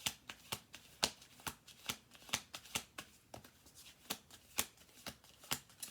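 Playing cards shuffled repeatedly up close, producing sharp, evenly spaced riffling clicks for several seconds, moderately quiet, alone without speech.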